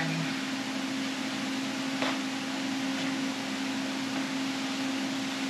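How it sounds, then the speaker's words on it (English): A freeze dryer running indoors, a quiet steady mechanical hum with a constant drone and faint background noise. "I've got my freeze dryer going."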